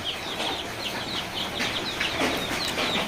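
Dense, busy clucking and peeping from a crowd of chickens and ten-day-old chicks, including Tiger layer, Fayoumi and local breeds, continuous throughout with small high chirps scattered on top.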